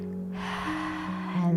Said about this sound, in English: I'm going to take 5 conscious, deep, gentle, slow breaths.